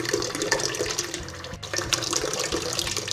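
Tap water gushing steadily into a pot on a home stovetop, filled about halfway for a vegetable broth; loud, continuous running and splashing with a brief break midway, no talking.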